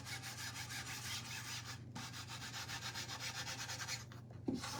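Steady, rhythmic hand scuffing with ground espresso on a surface, a close rasping rub repeating in quick even strokes with a brief pause midway and no talking.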